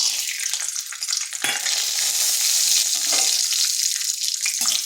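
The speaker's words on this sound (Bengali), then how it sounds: "বাদামগুলো একটু ভেজে নিচ্ছি।" Peanuts frying in hot oil in a wok, a steady close sizzle and crackle with a few brief stirring scrapes, no voices.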